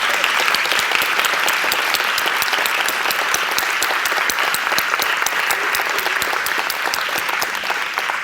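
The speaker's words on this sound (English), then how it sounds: "please give a round of applause to this remarkable panel" Sustained applause from a conference audience after a panel discussion, dense and steady throughout, with many hands clapping at close range and no voices standing out.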